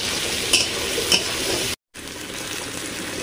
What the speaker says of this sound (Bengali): সঙ্গে কথা বলতে বলতে আমার কুদ্রি ভাজা প্রায় হয়ে এসেছে